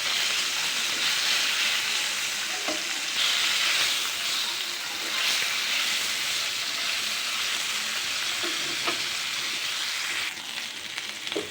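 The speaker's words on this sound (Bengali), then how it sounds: "এখন দুই সাইডে ভেজে নিচ্ছি ভালো করে" Fish marinated in salt and turmeric frying in a pan, a continuous close hiss and sizzle with a few small pops and crackles, steady to the end.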